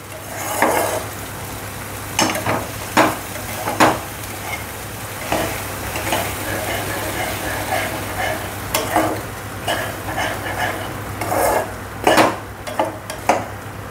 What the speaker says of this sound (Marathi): मसाला चांगला परतून घ्यायचा आहे.